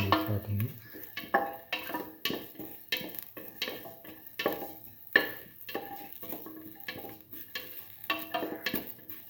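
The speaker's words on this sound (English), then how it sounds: "Thoroughly sauteing it." Food being sautéed in a pan, with repeated irregular scraping and clinking of a utensil against the cookware during stirring, moderately close and steady.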